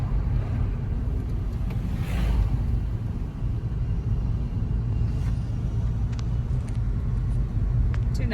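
Car on a driving test route in Sachkhere gathering speed, a continuous low engine rumble with road noise heard from inside the cabin, steady throughout.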